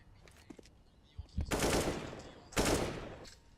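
Auto sniper rifle fire in a Counter-Strike match on Cobblestone: two loud, sustained bursts of shots roughly a second apart, each decaying slowly, with faint clicks between.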